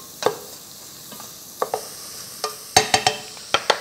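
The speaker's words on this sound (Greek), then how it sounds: "Ανακατεύουμε μέχρι η σελινόριζα να μαραθεί" Celeriac stirred in a pan with wine, a series of sharp scraping and clacking strokes from a utensil over a soft background sizzle, close up, with the strokes clustering toward the end.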